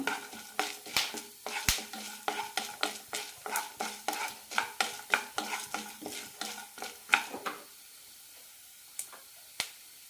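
Sliced onion is stirred into lentils frying in oil for cabbage chutney, with a quiet sizzle under a fast, regular run of spoon scrapes and clinks against the pan that stops abruptly, followed by a couple of isolated taps.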